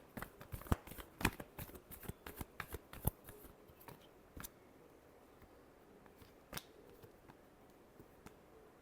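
Tarot cards are shuffled by hand in a quiet room, giving a rapid string of soft, sharp riffles and taps that thin out into a few scattered snaps.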